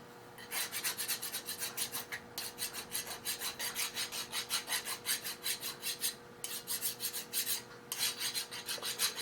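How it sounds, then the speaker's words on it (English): A hand file deburrs an edge on a 2024 aluminum part with repeated rhythmic rasping strokes, about two per second. The strokes are close and crisp, with a few short pauses between runs and no voices. "Take this one out, give it a little deburr."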